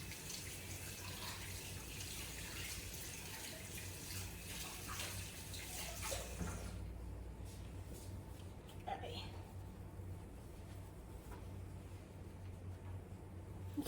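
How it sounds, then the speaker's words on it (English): Hands washed under a running kitchen tap while making meatballs, a steady rushing stream with splashing and rubbing that quietens partway through, a soft voice talking over it. "I'm gonna wash my hands"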